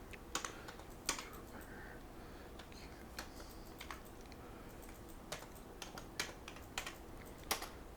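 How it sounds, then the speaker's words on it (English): Steady typing on a computer keyboard: irregular bursts of crisp key clicks with short pauses between them, close and fairly quiet, with no voices. "So I'm going to type in"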